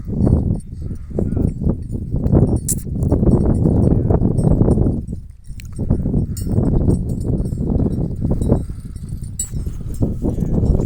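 A mare walks on a farm, her hooves clip-clopping in a steady, uneven rhythm close by and fairly loud, with a few faint clinks.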